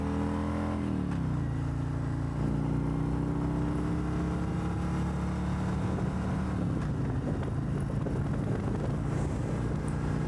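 Strong steady wind roar buffets the rider on a motorcycle cruising at about 60 mph in third gear, with the engine drone shifting pitch underneath, constant and loud throughout.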